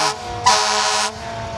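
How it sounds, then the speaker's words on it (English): Two loud blasts of a fire truck air horn at a parade, a short one then a longer sustained honk, close by. "I think the sirens and horns work on these trucks quite well"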